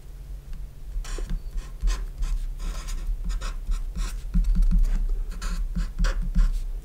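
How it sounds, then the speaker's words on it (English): A red pen scratches across paper as a math sequence is written out, with steady, close scribbling strokes and brief pauses between lines, and no talking. "Then write down the rest of the sequence."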